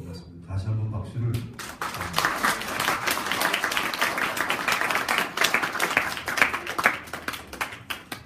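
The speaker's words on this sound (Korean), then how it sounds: "다시 한번 박수를." A crowd at an organization's general meeting breaks into sustained applause after a brief spoken line, the clapping dense and steady before tapering slightly at the end.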